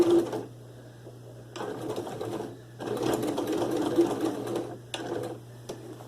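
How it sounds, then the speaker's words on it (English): A sewing machine stitches a simple bag in several short bursts, moving forward and back, with whirring runs separated by pauses and a faint steady hum underneath. "set the needle, stitch it forward a little bit,"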